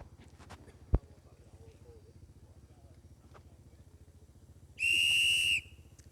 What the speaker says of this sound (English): As the whistle blow, folks,